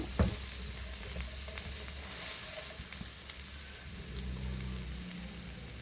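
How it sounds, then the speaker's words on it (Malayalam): Three slit okra and three green chillies fry in a pan of hot oil, giving a steady, close sizzle with light stirring clicks and no talking. "ഇതാണ്ട് 3 വെണ്ടയ്ക്ക കീറിയിട്ടുണ്ട്, അതിടുവാണ്. 3 പച്ചമുളക് ഇട്ടിട്ടുണ്ട്."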